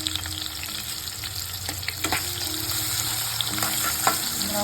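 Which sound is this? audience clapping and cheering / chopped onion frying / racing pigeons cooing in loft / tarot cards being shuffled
chopped onion frying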